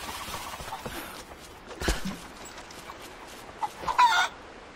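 Chickens in the Rise of the Tomb Raider video game cluck in short bursts over a low ambient bed, with a louder cackle near the end and no talk.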